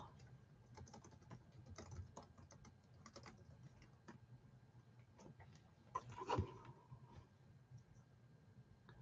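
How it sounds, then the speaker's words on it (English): Quiet typing on a computer keyboard, irregular bursts of soft clicks spread through the stretch with a sharper knock near the end, no talking over it. "My fat fingers are not hitting the keyboard right."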